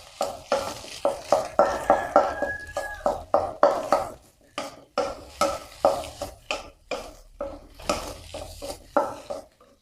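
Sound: stir-frying chopped garlic with egg in a pan

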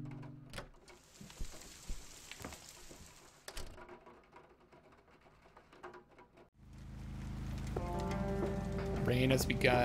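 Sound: rain falling in the video game Kathy Rain

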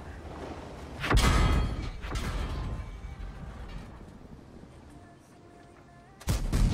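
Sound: gunfire in a video game

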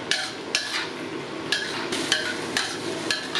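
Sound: stir-frying glass noodles in a pan

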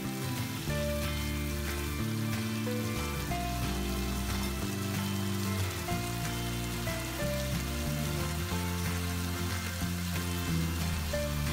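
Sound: stir-frying pork belly with kaffir lime leaves

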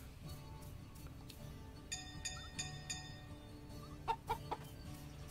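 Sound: chicken clucking in video game Story of Seasons

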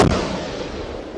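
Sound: mortar shell explosion

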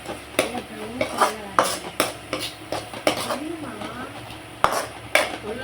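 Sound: sautéing onions stirred in a pan

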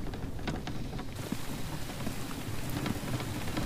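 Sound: rain in a video game, The Infected

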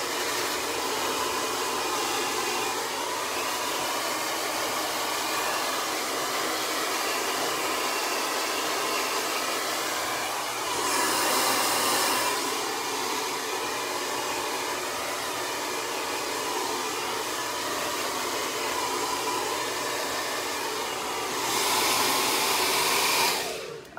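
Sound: hair dryer blowing on cool shot setting

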